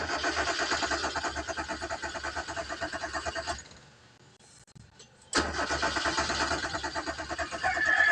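A 2003 Kia Avella's engine cranks repeatedly with a steady rhythmic starter churn, pauses briefly, then cranks again without catching, loud and close.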